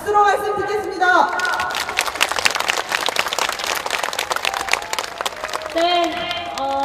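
A crowd at a candlelight vigil for the Sewol ferry victims breaks into sustained applause between spoken passages, with a voice talking before the clapping and another after it fades.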